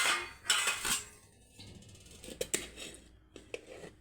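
At a home lunch of rice, fried appalam, kara kuzhambu and seppankizhangu, serving spoons and steel dishes give scattered light clinks and taps of metal on metal.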